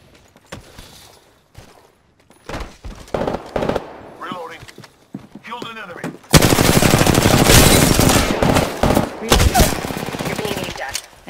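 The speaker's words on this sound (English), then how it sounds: "I'm getting shot!" Apex Legends gunfire: sparse shots and short bursts early on, then a loud, sustained barrage of rapid automatic fire with overlapping impacts, with game voice callouts mixed in.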